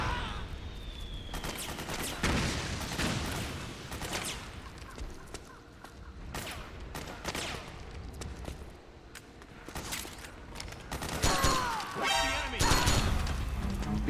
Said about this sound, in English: Mortar inbound